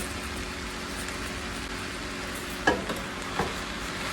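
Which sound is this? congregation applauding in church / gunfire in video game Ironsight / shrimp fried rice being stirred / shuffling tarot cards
shrimp fried rice being stirred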